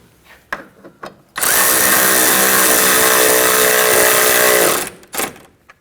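A power drill snugs screws down on a 2017-2020 Hyundai Elantra AC condenser, a single loud whirring burst of about three seconds framed by small clicks and handling noises.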